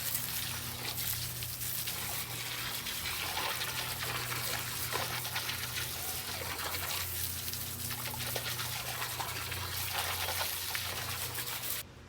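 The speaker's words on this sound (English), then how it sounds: "And now we will give the fountain a spray." A garden fountain, its basin algae-covered and gunky, sprays water in a steady, continuous hiss and patter with a low background hum, running without a break.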